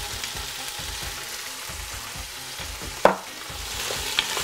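Lemongrass and onion fry in a pan for a prawn laksa, giving a steady close sizzle and hiss, with one sharp utensil clack partway through and a lighter tap near the end.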